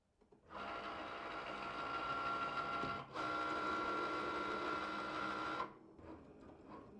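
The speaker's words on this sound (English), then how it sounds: "we do have our rotary blade in clamp B. So once you're good to go, you can press that flashing Cricut button." A Cricut cutting machine working with its rotary blade gives a steady mechanical whirring hum that runs for about five seconds with one brief pause, heard close and alone.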